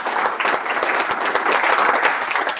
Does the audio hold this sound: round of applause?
yes